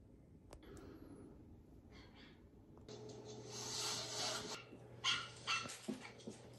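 A small found puppy whimpers softly and gives a few faint barks and yips, quiet and close, with rustling between the short cries.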